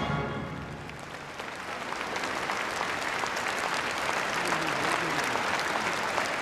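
A large audience at an evening friendship performance applauds and cheers after the show ends, a dense, sustained roar of clapping and shouts that swells slightly, close and loud throughout.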